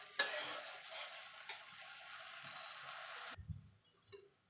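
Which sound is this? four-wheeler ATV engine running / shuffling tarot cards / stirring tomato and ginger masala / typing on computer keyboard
stirring tomato and ginger masala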